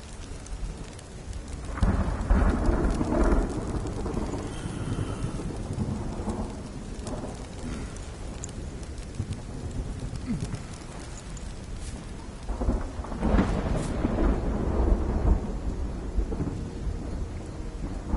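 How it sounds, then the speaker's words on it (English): Steady rain falls with low rumbling thunder rolling in and out in Arise: A Simple Story, a continuous stormy wash with swells of thunder, no voices. "it's raining here, so it's perfect."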